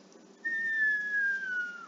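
A voice whistles in imitation of an incoming artillery shell, one long high tone that slowly falls in pitch and then drops off at the end, heard alone.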